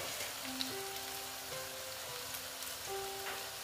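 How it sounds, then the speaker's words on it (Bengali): Potato and flattened rice (chira) frying gently in a pan on low heat, giving a soft, continuous sizzle with faint kitchen clinks. "দেখো এই কটা আমি আগে ভেজে নিচ্ছি।"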